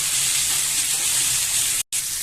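A homemade roasted spice mix frying in a pan with potatoes for a snail curry, producing a continuous close sizzle and hiss that cuts out for a moment near the end, with no voices.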